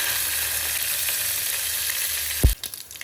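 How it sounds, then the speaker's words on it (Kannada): Curry leaves and garlic sizzle steadily in hot oil in a pan, a continuous near frying hiss, with a sharp clatter near the end as something is stirred or added. "ಫ್ರೈ ಆಗ್ತಾ ಇದೆ ಅಲ್ಲ."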